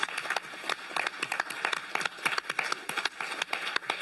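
A county supervisors meeting breaks into applause for grant staff, with scattered, uneven hand claps at moderate distance, steady for several seconds and without speech.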